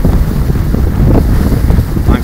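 Strong wind buffets the microphone aboard a sailboat near the amphibious assault ship USS Makin Island, a loud continuous rumbling roar with gusty swells throughout.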